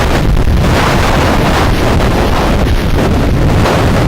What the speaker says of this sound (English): I love it with the wind coming through these trees